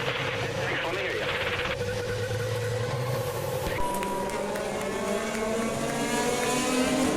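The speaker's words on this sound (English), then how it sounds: "Drivers, start your engines!" IndyCar race car engines fire up together at the start of a race, building into a continuous, loud droning roar with rising revs that layers over itself as more cars join in.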